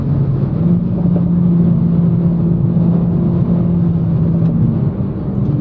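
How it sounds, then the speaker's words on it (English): A Renault Megane RS 300 on the move, heard from inside as a steady, loud engine drone with road rumble, holding an even pitch and fading slightly toward the end, with no talk. "Oh god, this car drives well"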